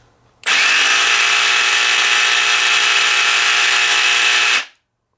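A Milwaukee M18 FUEL FBJS cordless jigsaw runs freely with a loud, steady, high-pitched motor whine. It starts abruptly, holds for about four seconds and then winds down.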